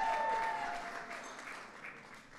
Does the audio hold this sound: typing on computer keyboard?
no